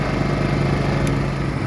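A Powersmart PS5025 2200W four-stroke OHV gas inverter generator running steadily, a close, even engine drone with a low hum and no speech.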